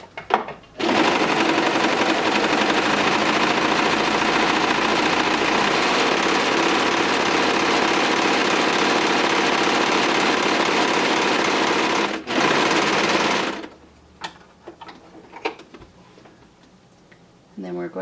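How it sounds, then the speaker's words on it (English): A serger sewing machine runs continuously while serging a seam, a loud steady rapid whirring hum that pauses briefly, resumes, then stops, followed by quieter handling clicks. "we're going to start with serging a seam."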